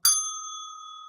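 A single bright bell strike used to signal a scene change in an improv comedy show, ringing clearly alone and decaying slowly.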